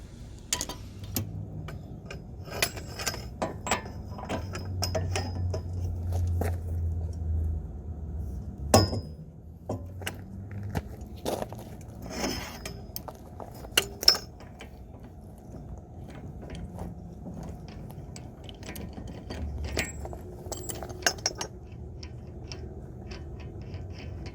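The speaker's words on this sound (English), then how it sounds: "put a screwdriver here and use a 32 and take this nut off." Socket wrench removing a 32 mm axle nut on an Acura Integra, heard as irregular metallic clicks and sharp knocks with scattered louder hits, close by, with no talking.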